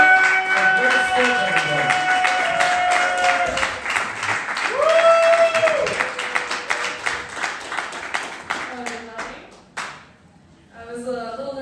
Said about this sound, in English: give a nice, warm, and very big round of applause for our next comedian